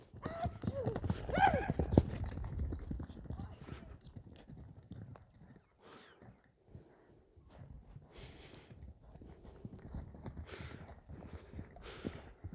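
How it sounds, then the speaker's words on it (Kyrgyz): A large six-year-old horse moves about and trots, its hooves clip-clopping in an irregular rhythm at close range while people talk over and between the steps. "Көрүңүздөр, атты ордунан алгандары дагы, жылыштары дагы аябай жакшы экен."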